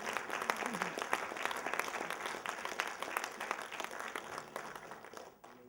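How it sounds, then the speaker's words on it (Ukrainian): Concert audience applause at a Ukrainian jubilee evening for a performer, a dense patter of many hands heard from some distance at moderate volume, easing off toward the end. "Давайте ще раз ширими оплесками подякуємо."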